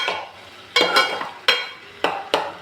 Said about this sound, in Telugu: సో నేను ఇది కొంచెం బాగా ఫ్రై చేస్తాను అన్నమాట.